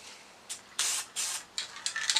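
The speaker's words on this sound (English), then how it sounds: "spray a bunch of spots everywhere" Short hissing bursts of aerosol spray paint onto a Ninja 400 motorcycle, several quick sprays in irregular succession, close and fairly soft.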